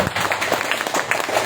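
Sparse clapping from a few hands at an Eagles club fifth-anniversary gathering, a light, uneven patter that continues through the short moment with low background murmur.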